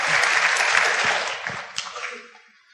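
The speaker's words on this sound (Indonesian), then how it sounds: "Aplaus dulu untuk Bapak Ibu semua, luar biasa." An audience at a business training seminar in Indonesia claps in a dense burst of applause that gradually thins and fades out over a few seconds.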